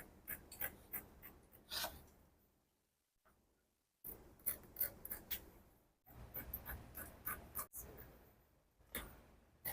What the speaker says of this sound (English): Then I'll go ahead and cut it out